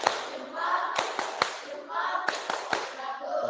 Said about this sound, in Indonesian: Kasih tepuk jempol dong, tepuk jempol.